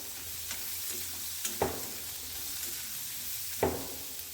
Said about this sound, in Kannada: ಅದನ್ನು ಎಣ್ಣೆ ಒಳಗೆ ಚೆಂದಾಗಿ ಫ್ರೈ ಮಾಡಬೇಕು.